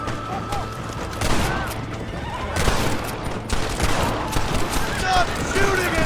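Gunfire during an ambush in the video game Red Dead Redemption, scattered shots and booms mixed with horse whinnies and hoofbeats, with voices shouting over the chaos.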